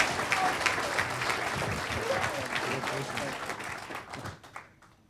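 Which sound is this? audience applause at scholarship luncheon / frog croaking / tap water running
audience applause at scholarship luncheon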